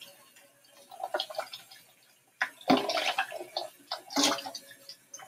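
Dishes are washed under running water, with splashing bursts that start and stop and occasional light clinks, close and fairly loud after a quiet opening.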